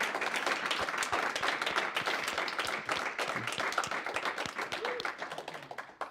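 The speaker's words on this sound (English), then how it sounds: "a big round of applause for you guys" Audience applause at a live developer meet-up event: dense, steady clapping from a group, fairly close, continuing throughout and thinning slightly toward the end, with a few voices under it.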